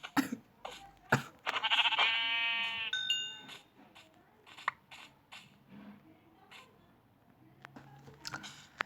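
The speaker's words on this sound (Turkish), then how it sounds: "Aa koyun koyun koyun koyun koyun." A sheep in a video game lets out a loud, drawn-out bleat amid scattered clicks and taps, with quieter rustling afterward.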